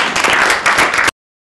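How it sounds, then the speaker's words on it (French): Crowd at a Donald Trump event clapping in played-back footage, a loud burst of many hands lasting about a second before cutting off abruptly into silence. "Et on applaudit à la fin en plus."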